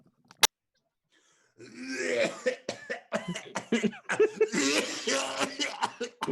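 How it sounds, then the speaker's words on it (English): A single sharp cough, then a long run of repeated harsh coughing and throat-clearing, close and loud, with no talking. "I'm coughing and spluttering."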